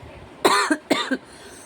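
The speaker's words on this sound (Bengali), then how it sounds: "হঠাৎ করে কাশি এসে গেলো সেই কারণে ভিডিওটা একটু স্টপ করলাম" A sudden cough from a person indoors, two sharp close bursts each followed by a short catch, in a quiet room.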